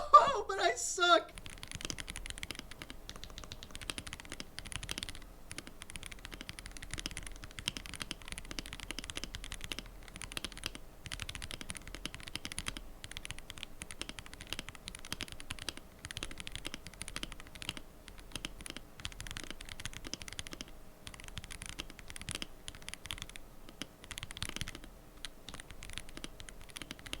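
Fast, continuous typing on a Lego-built KBDcraft Lilith keyboard, a soft, steady patter of keystrokes that stays quiet and close, with a brief voice at the very start.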